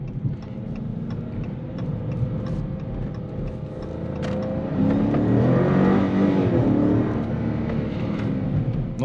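A Dodge Charger R/T with the 5.7 Hemi V8 pulls hard under acceleration, its engine note swelling steadily louder and deeper over several seconds, close by, with no talk over it.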